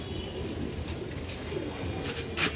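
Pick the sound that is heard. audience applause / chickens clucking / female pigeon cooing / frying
female pigeon cooing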